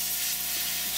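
Steady, continuous hiss of compressed air blowing on a drill bit while drilling an AR15 gas block, loud and even throughout with a faint mechanical hum underneath.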